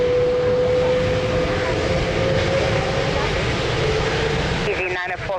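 Airliner taking off from runway 02 at Lisbon Airport, a loud broad engine roar with a steady tonal whine that holds across the runway, fading slightly near the end.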